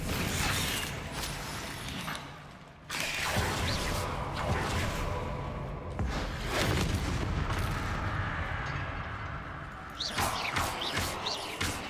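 Spells cast in a Hogwarts Legacy battle, the disarming Expelliarmus and the explosive Confringo, come as a dense run of booming blasts and whooshes with rumbling crashes, a brief lull near three seconds, then more loud bursts.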